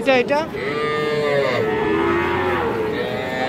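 A young bull calf at a cattle market moos loudly nearby in one long, drawn-out bellowing call that rises and wavers before trailing off.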